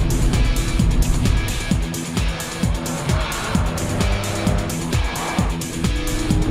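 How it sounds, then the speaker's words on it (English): A car with a supercharged 3-litre V6 TFSI engine accelerates hard through repeated gear changes, its loud rising engine note rising and dropping in rhythmic steps with faint tire noise, driven in dynamic mode with a sports differential. "Then the supercharged V6 3-litre TFSI engine kicks into life."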